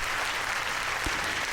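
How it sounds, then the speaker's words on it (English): Applause from a crowd, a steady even patter of clapping heard briefly and fairly faint. "please everybody applaud."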